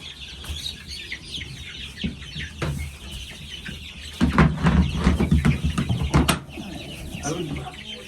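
Chickens and a rooster clucking around a coop as chicks are moved from their brooder during a thunderstorm, with a louder burst of clucking and flapping in the middle and a person talking briefly nearby.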